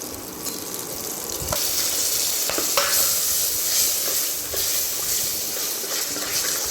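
Ginger garlic paste sautéing in a pan with onions, tomatoes and green chilies for Indian egg gravy gives a steady, close sizzling hiss, with a few sharp spatula scrapes against the pan and no talking.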